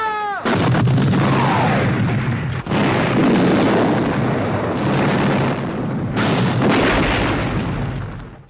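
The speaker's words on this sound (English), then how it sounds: "We're starting off with cannons" Cannons boom in the Total War: Warhammer 3 video game, a loud, heavy rumble of repeated blasts with dense crackling, nearly continuous over several seconds with brief gaps.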